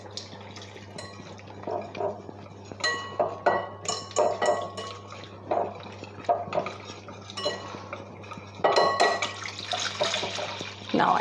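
A milk, wheat starch and egg yolk mixture is poured slowly into a pot, giving soft liquid splashing along with repeated clinks of a utensil against cookware and a low steady hum underneath.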